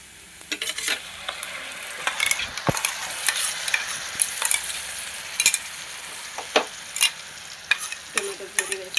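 Tomato puree fries with onions, ginger garlic paste, salt and turmeric in a pan for a prawn curry. A close, continuous sizzle runs under repeated sharp spatula scrapes and taps as it is stirred, with no talking.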